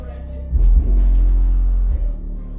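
Heavy bass from a Cutlass car stereo, heard from outside the car: a deep, loud thumping swell that starts after a half-second, holds steady for about a second and a half, then drops away, with faint rattling above it.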